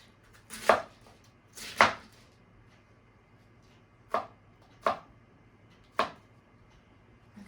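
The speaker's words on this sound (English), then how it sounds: "I'm going to show you how to just do it in the food processor" Vegetables being chopped into smaller chunks, heard as five sharp isolated chops spread across a quiet stretch, close and clear with no talking.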